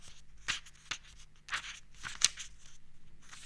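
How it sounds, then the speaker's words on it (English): A deck of playing cards gets an overhand shuffle up close: quick papery riffs and slaps come in uneven bursts, fairly soft and with no talking. "and then the overhand shuffle once again."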